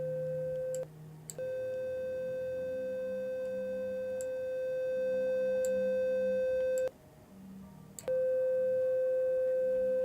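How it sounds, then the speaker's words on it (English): A smooth, steady sine-wave synthesizer tone from VCV Rack holds one pitch. It drops out briefly a few times, including one longer gap, and plays alone without speech. "The sine wave is way smoother"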